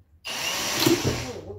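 A drill whirs up sharply after a brief silence and drives a screw into melamine board, a close, steady buzzing that dips slightly as it bites.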